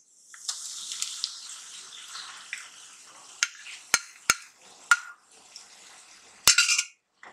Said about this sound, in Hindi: इसे अच्छे से भुनेंगे